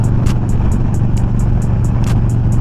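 Steady roar of wind and road noise from riding on a freeway while wearing a Simpson Ghost Bandit helmet, loud and constant, with a faint regular ticking that repeats throughout.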